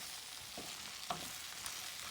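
Potatoes fry in a pan as a tablespoon of coconut oil melts in, a soft steady sizzle with a couple of light stirring scrapes, no voices.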